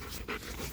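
A dog pants close by, quick breathy huffs with a brief sharper puff midway, loud and alone without any voices.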